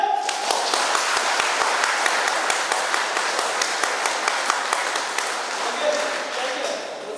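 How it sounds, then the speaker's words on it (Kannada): An audience claps steadily for about seven seconds, a dense and fairly loud roar of many hands with a few sharper individual claps standing out, at a giveaway programme event. "ನಾವು ಚಪ್ಪಾಳೆ ಹೊಡಿತೀವಿ."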